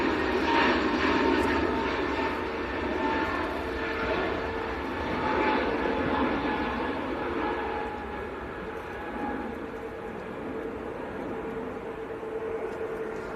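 EasyJet airliner taxiing out for departure at Manchester Airport, a steady, continuous engine whine and low rumble heard from a distance, holding level throughout with no talk.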